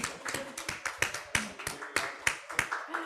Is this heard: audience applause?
yes